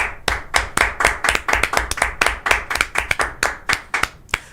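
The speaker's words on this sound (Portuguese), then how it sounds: "Novamente, vamos pedir palmas pro Felipe Moura Brasil." A crowd claps in a steady, even rhythm, roughly twenty sharp claps in a row, loud and close.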